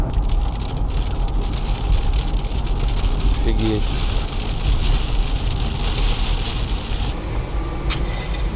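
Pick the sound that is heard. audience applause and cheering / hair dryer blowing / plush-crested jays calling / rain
rain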